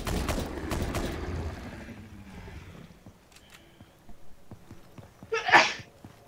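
One sharp, loud sneeze bursts out near the end, close to the microphone, after a stretch of quieter background sounds during a Nether gaming session.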